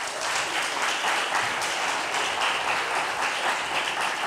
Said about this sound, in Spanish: Gracias, un aplauso para ellos.